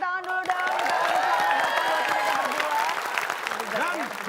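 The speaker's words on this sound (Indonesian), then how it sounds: "Boleh kasih tepuk tangan dulu dong." Studio audience at an Indonesian TV quiz show breaks into sustained applause, a dense even wash of clapping that holds steady throughout with crowd noise underneath.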